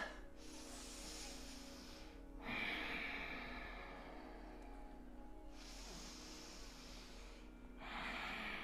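Slow, deep meditative breathing close to the ear: long airy inhales and exhales alternating in an unhurried rhythm of a few seconds each, with no speech.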